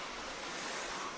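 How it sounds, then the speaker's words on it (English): Continuous low roar of wind buffeting the microphone at an RC buggy racing practice, a steady rushing noise with no voices. "A bit windy with some of our drink cans tipping over."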